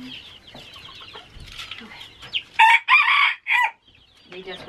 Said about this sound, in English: let's go check on the chickens